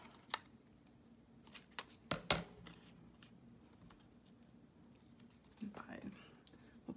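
Scissors cutting a paper word out for a Bible journal, sparse close snips and crisp crinkles scattered through a quiet room, a brief louder rustle of paper toward the end.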